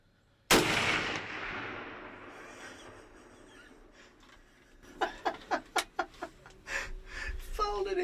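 A single loud rifle shot cracks out close during a Kentucky whitetail deer rut hunt, its boom decaying over a couple of seconds, followed by quick breathy bursts and low voices.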